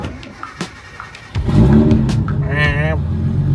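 Nissan R33 GT-R sedan engine: quiet idle with a couple of small blips, then a loud rev that climbs and rises again in pitch, heard close, with people talking over it.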